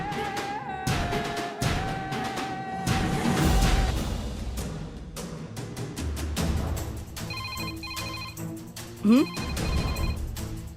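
A telephone rings repeatedly in a home, its electronic ringtone pulses cutting through background music and drama sound, moderately loud and near.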